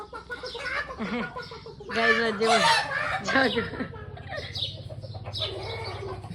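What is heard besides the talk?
chickens clucking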